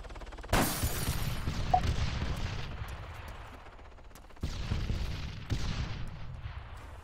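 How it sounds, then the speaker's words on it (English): Sharp single-fire gunshots in the military shooter Arma 3, a few distinct reports at moderate distance separated by quieter stretches of ambient battlefield noise, with no talk. "there's a guy shooting single fire"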